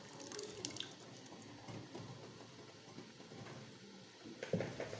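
Water is added to a pot of chana and egg curry as it is being cooked, giving soft splashing and dripping sounds at low level with no talking.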